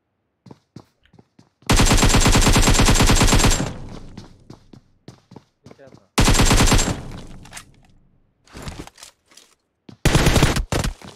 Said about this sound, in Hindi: मैजिक बुलेट ऑन कर करके गोली चलाना स्टार्ट कर